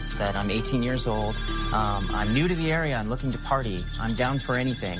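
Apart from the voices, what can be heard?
prepaid phone ringing from calls to an online ad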